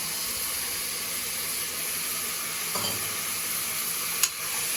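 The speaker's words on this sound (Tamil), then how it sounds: "இதை கொஞ்சம் அப்படியே வதக்கி விடணும்." Cauliflower and green peas sauté in a pan for veg pulao, giving a soft, steady sizzle with faint stirring scrapes and a couple of brief clinks near the end.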